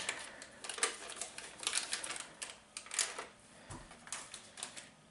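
Crinkly paper rustling as a softened stick of butter is unwrapped, a close run of light, irregular crackles and taps with no voices.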